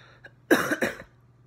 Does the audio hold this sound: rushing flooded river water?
no